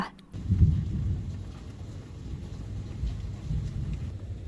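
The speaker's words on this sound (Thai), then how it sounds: "เช้านี้ตื่นขึ้นมาพร้อมกับฝนที่ตก" Steady rain falls with a soft continuous hiss, with a low rumbling undertone throughout and no voices.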